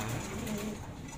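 Racing pigeons coo softly in a low, murmuring burble, several birds close by with a steady background hum.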